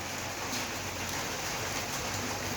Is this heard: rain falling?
yes